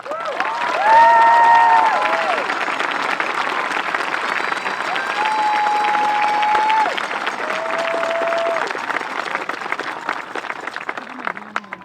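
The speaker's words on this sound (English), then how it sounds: "How about a special round of applause for those joining the military?" Graduation ceremony crowd applauding and cheering at a high school commencement, a loud sustained wash of clapping with shouts and whistles rising over it, swelling early then holding steady before fading.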